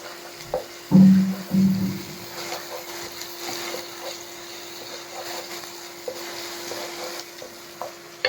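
Onion paste frying in a pan as a Bengali pasta dish is cooked, with a soft steady sizzle, a couple of louder stirring scrapes near the start and occasional light clinks.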